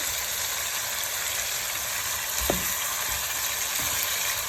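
Hilsa fish bones frying with kohlrabi, beans and potato in a covered pan, a steady broadband sizzle throughout with a few soft knocks of a utensil midway, no voices.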